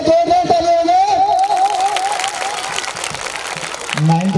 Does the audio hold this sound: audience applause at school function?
yes